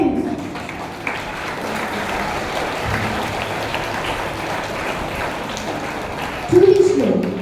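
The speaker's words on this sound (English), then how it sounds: "of applause for my friends." Applause from an audience at a school value education programme, a moderate, steady patter of clapping with some background voices and a brief tonal sound near the end.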